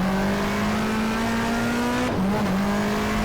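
Racing cars in the GTR2 video game cross the finish line at Eastern Creek in a 1994 Australian Manufacturers Championship race, giving a steady loud engine drone that briefly dips and shifts pitch near the end.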